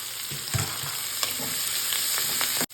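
Tomato, green chillies, ginger and curry leaves sautéing in a hot pan for an omelette curry, a steady broad sizzle with a few scraping stirs, close and alone without voices, cutting off abruptly at the end.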